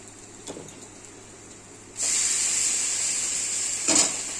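Meat with spices fries in a pan at home: a faint quiet start, then at two seconds a loud, steady, close sizzling hiss that holds to the end, with a brief flare near the close.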